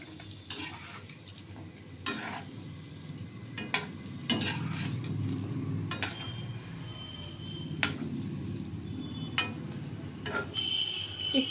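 Mango fritters deep-frying in oil in a pan, a soft continuous bubbling sizzle broken by occasional clicks and taps from a utensil.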